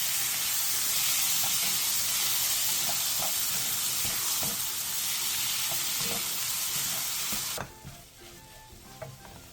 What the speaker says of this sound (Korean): 팬에 식용유 2스푼과 김치, 설탕 반스푼을 넣고 중불에서 3-4분 정도 볶아주세요.